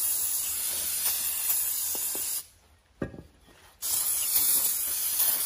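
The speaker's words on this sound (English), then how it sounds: "Let's just put the brake cleaner in here." Brake cleaner sprays from an aerosol can into the cylinder of a Briggs & Stratton engine on a John Deere D100 lawn tractor, giving a loud, steady close-up hiss with one brief pause partway through.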